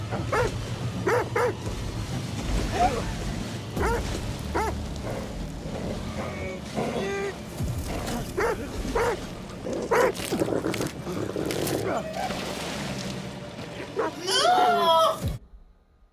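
A dog barks and yips repeatedly through a horror game sequence in The Devil in Me, loud bursts mixed with game effects and a player talking over it, ending abruptly.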